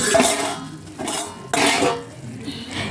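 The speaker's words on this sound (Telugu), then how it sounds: "మూత కాలుతుందని చెప్పేసి ఒకేసారి పక్కన గిన్నెలో పడేసా" A hot metal lid, dropped while checking a cooking curry, clatters into a nearby metal bowl with a sharp clang and brief ringing, followed by a couple more metallic knocks nearby.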